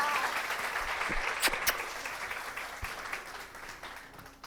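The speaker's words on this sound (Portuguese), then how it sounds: "Uma salva de palmas para a Tassinha." Audience applause for chef Tássia Magalhães at a live culinary event in Paraíba, a steady broadband patter of many hands that holds through the clip with a few sharper claps and slowly fades toward the end.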